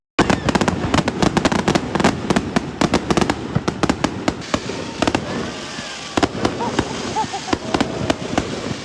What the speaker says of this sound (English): We got extremely close to the fireworks going off.